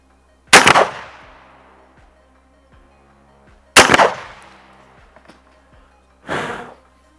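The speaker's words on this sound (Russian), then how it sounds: "Зарядим наши пули и выстрелим на дистанцию 35 метров" Slug loads fired from an ARMSAN PHENOMA smoothbore shotgun with a 710 mm barrel and choke at 35 metres: two sharp, loud reports a few seconds apart, each followed by a decaying outdoor echo, then a softer burst of noise.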